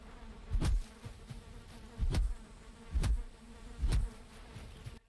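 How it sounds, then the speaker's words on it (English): Bees at a beehive by a hut in the Valheim video game, a low continuous buzzing under four loud, evenly spaced thuds about a second apart. "one of these huts has some bees. I don't know if you can see the beehive, but you can definitely hear it"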